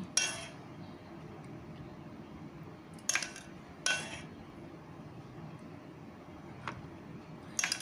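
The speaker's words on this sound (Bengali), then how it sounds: "আমি হাতাটা করে অল্প অল্প করে এই মোলের মধ্যে এই ব্যাটারটাকে দিয়ে দিচ্ছি" A ladle pours mango ice cream batter into moulds, making a few sparse, faint clinks of metal and plastic spread out over a quiet kitchen background.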